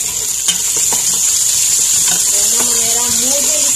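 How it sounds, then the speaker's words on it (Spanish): Three garlic cloves frying in a pan while zucchini is being stewed, giving a steady close sizzle with light stirring and clinking throughout, under a speaking voice. "Vamos a colocar también los tres dientitos de ajo"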